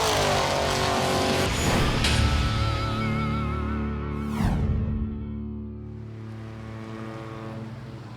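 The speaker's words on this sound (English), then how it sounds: "zoom, car goes by in a blur" Rally race car at the Newfoundland Targa Rally roaring past on a quiet country road, engine building to a loud close pass with a sharp sweep, then fading away into the distance.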